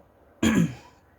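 A single close, clear throat clearing from a woman reading aloud, one short rough burst in a quiet room with no talk around it.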